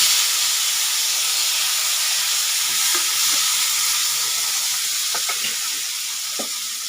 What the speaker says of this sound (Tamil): இப்போ நம்ம தக்காளி 2 எடுத்தோம் இல்லைங்களா, கட் பண்ணிவிட்டேன், அதை போட்டு வதக்கலாம்.